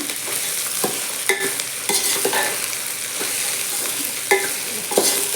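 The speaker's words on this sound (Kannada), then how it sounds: "ಈಗ ಉಳ್ಳಾಗಡ್ಡೆ ತಪ್ಪಲ ಹಾಕ್ತೀನ" Onion greens sizzle steadily in a hot pan during village-style home cooking, with repeated scraping stirs clattering over the constant frying hiss.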